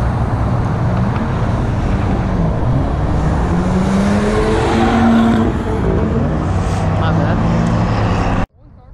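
A Honda Civic Type R drives past at a supercar show, its engine a loud, close drone with rising and falling pitch that holds for several seconds before cutting off abruptly, with crowd voices underneath.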